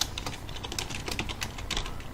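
Rapid, steady tapping on a computer keyboard sounds close and clear, a continuous run of light key clicks with no voices over it.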